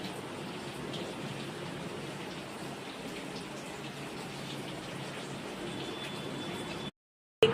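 Steady rain falls on a cold, wet day, a dense continuous hiss close by that holds evenly for several seconds before cutting off abruptly near the end.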